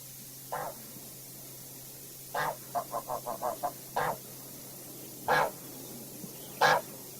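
Geese on a farm honk in short, separate bursts, one lone call followed by a quick rapid cluster and a few more spaced honks, fairly faint over a quiet background.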